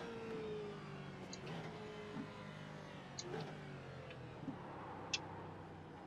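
Ford GT GT2 race car in iRacing at Le Mans, engine note falling and rising through quick gear changes, with a steady mid-level drone and a few short ticks and clicks over it.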